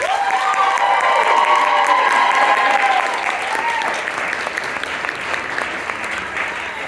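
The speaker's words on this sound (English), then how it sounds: "let's give one more round of applause for Nick for accompanying so well" An audience at an unscripted comedy show breaks into loud applause with cheers and whoops, strongest at first and then settling into steady clapping.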